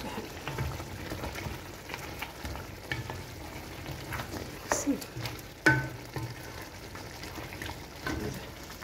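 Food fried with spices in a pan is stirred, faint steady sizzling with scraping clicks and a few sharper knocks of the utensil, fairly quiet and close, with occasional talk in the background.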